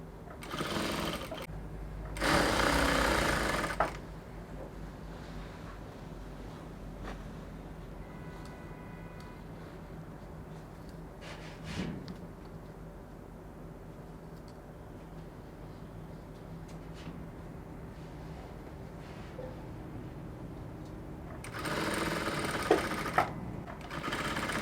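A sewing machine stitches a half-inch seam joining fabric pieces for a standing-collar bubu dress: two short, fast whirring bursts near the start and end, separated by a long quiet stretch.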